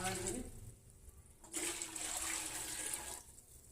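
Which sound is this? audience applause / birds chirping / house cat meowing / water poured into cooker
water poured into cooker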